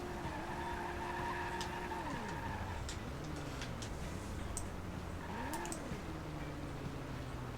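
Pickup truck in the Driver video game on iOS: a revving engine rising and falling repeatedly with tire squeals during turns, at a moderate level with no speech.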